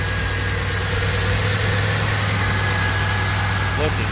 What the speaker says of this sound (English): Car's still warming up.